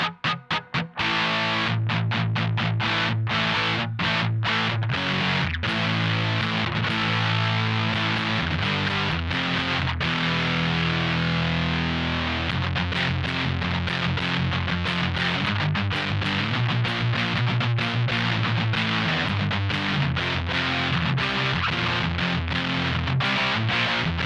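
Electric guitar played through a ProCo Rat distortion pedal with the gain pushed to around two o'clock, a thick, saturated, bass-heavy tone sustaining loudly and continuously after a few short opening picks, with no talking.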